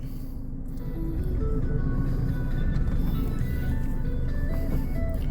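A 2005 Isuzu D-Max with the 3.0 iTEQ diesel engine starts up and settles into a steady, loud idle that continues close by without any talking.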